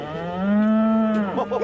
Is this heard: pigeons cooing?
no